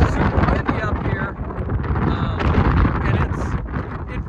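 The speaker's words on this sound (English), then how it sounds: "It is super windy up here." Strong wind roars and buffets the microphone on a remote rim along a backcountry route in Wyoming, loud and continuous throughout with no pauses.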